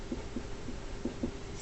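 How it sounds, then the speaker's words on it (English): Pen or pencil writing notes, a series of about five soft, short scratching strokes, faint and close, with no talk over them. "So let's write that down."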